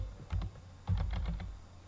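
Short bursts of computer keyboard typing while entering a Python file name in a Linux terminal, two quick clusters of close, light key clicks with a brief pause between.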